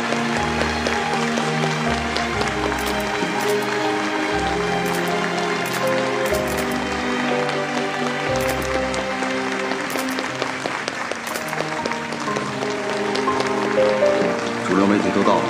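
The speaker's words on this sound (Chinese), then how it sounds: "下面让我们以热烈的掌声欢迎穆先生和莫先生夫妇进场。" Warm applause from wedding guests welcoming a couple's entrance, steady clapping over music with voices speaking throughout.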